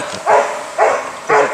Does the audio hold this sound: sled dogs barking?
yes